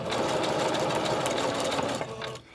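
Sewing machine running steadily while stitching a zigzag across lace and fabric, a close, continuous whirring hum with fast stitching rhythm that slows and stops near the end.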